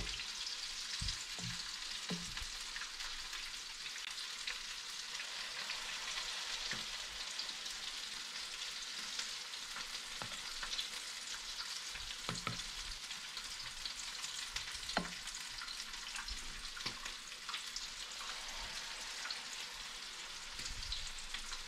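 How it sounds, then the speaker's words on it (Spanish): Cod patties sizzle steadily in a pan of hot oil, a constant bright crackle with occasional sharper pops, quiet and unbroken with no voices. "Y lo vamos a poner a freír por un par de minutos, aproximadamente 1 minuto por cada lado."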